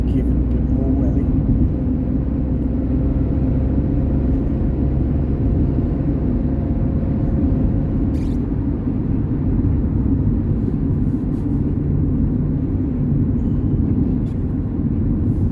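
A car picks up speed on a road in Consett, a continuous loud low engine and road rumble holding steady for the whole stretch, with a voice speaking over it.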